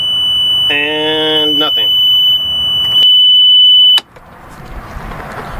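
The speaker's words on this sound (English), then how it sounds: "With the key engaged and the annoying beeper beeping" On a sailboat, the engine ignition warning beeper sounds a steady, high continuous tone for several seconds while someone talks briefly over it, then it stops abruptly, leaving quiet background noise.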